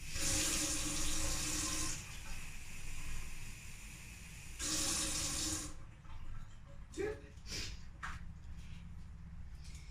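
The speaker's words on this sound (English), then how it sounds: "1 cup of water. Our finest Stockholm tap water." Stockholm tap water runs in two short bursts, filling a cup with a steady rushing hiss, followed by quieter clinks and handling sounds.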